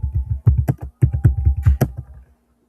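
Rapid bursts of clicky keystrokes on a computer keyboard as switch configuration commands are entered, close and crisp in two quick runs with a short pause between, no talking.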